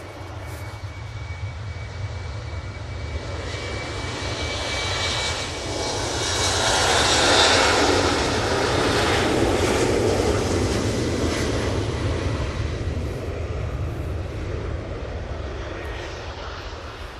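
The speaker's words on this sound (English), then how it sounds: "Finnair's going, so let's jump on that" A Finnair jet airliner takes off from Manchester Airport bound for Helsinki, its engine roar building to a loud peak midway, then rumbling on steadily as it climbs away, with no voices.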